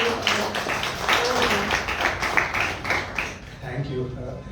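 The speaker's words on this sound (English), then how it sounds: "Please give a huge round of applause" At a book talk, an audience gives the author a dense, steady round of applause from many hands, tapering off near the end as a voice begins speaking.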